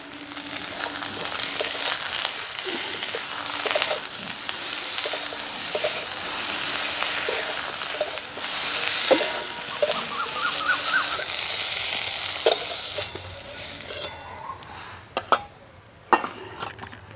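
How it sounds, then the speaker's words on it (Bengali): Lightly salted eggplant pieces fry in hot oil in a kadai with a steady, close sizzle, while occasional stirring clinks and scrapes of a utensil against the pan sound over the bubbling, growing sharper toward the end. "এই তেলেই বেগুনগুলো ভেজে নেব।"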